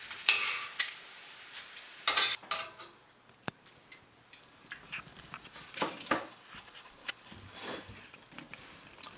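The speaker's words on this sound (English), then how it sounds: "I just fried my tortilla chips, and now I can fry my chilies" Tortilla chips frying in oil in a home kitchen, soft bubbling sizzle under intermittent clinks and scrapes of a utensil stirring in the pan.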